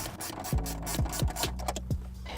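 A ratchet wrench loosens a 10mm bolt in the cargo area of a 2015 Toyota Highlander, a close series of quick clicking ratchet strokes repeating in an even rhythm.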